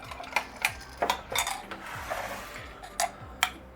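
A utensil clinks and scrapes against a bowl while a no-bake mango cheesecake mixture is stirred and tempered, giving a few sharp, close metallic taps over a soft swishing, with no talk.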